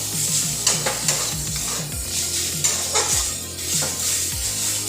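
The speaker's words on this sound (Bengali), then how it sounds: "এবার এইভাবে কম স্টিমে শাকটাকে ভালো করে ভাজা করে দিই।" Bottle gourd leaf greens being stir-fried in a wok over low heat, with a steady sizzle and repeated scraping stirs of a spatula, close and fairly loud with no voices.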